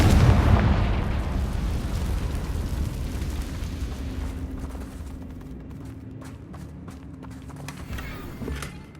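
Confringo fire-blast spell exploding in Hogwarts Legacy, a loud booming burst at the start that rolls off into a long fading rumble, with scattered smaller crackles and thuds trailing toward the end.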